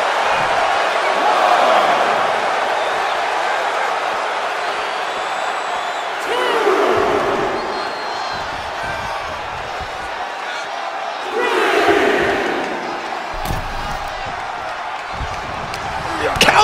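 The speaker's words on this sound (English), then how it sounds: "Randy Orton feeding off this electric crowd." Arena crowd in the wrestling video game WWE 2K23, a broad roar of cheering that swells in several waves over a steady crowd bed, mixed with thuds and impacts from the match and no commentary.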